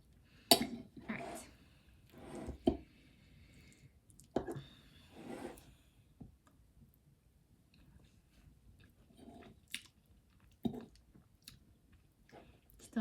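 Someone eats leftover chicken cordon bleu with ham and cheese and creamy au gratin potatoes, with soft close chewing and mouth sounds punctuated by a few sharp clinks of utensils against a dish, in short irregular bursts.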